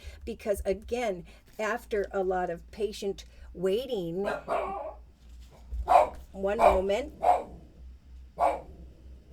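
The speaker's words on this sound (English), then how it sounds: "he barked when he heard the door open" A dog barks indoors as a door opens: a few sharp, close barks come in the second half, after a stretch of steady talking.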